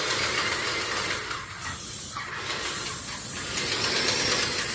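A paint sprayer hisses steadily as it sprays enamel onto a patio cover, a continuous loud airy spray with a few brief dips in the middle.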